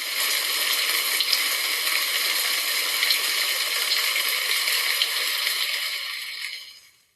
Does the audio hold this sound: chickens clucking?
no